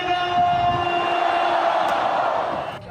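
A dense crowd of devotees cheers and clamors as the Baishatun Mazu palanquin enters Chaotian Temple in Beigang, a continuous loud roar with a sustained tonal drone, fading slightly at the very end.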